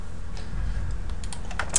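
Computer keys pressed during work in UV-mapping software, giving a few soft, close clicks and taps toward the end over a low steady room hum.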